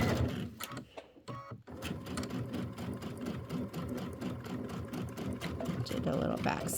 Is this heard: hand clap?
no